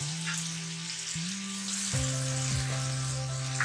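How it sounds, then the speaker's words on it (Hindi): Garlic paste with a little turmeric sizzles in hot oil and butter in a home kitchen. A steady, close crackle runs throughout, with a faint hum beneath it. "ऑयल गर्म हो गया, मैं इसके अंदर लहसुन पेस्ट डालूंगी।"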